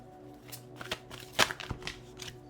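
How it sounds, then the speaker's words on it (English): A deck of reading cards is shuffled by hand, giving a few quick papery riffles and soft flutters, close and quiet, with one sharper burst midway. "All right, so yeah, 3 shuffles, and then I just pull like so."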